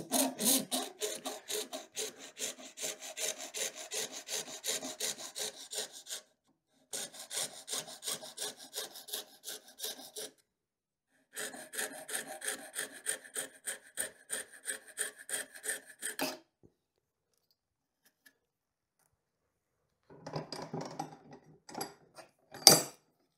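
Hand saw cutting excess plastic off a 3D printed guitar nut mini vice, close and steady, with rhythmic back-and-forth strokes in three bursts separated by short pauses, then a few scattered scraping sounds at the end.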